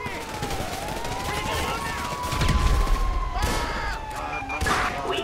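Gunfire and explosion-like booms during a GTA V police-mod sheriff patrol near Grape Seed, with a siren wailing across the whole stretch and rapid bursts of shots hitting hardest midway.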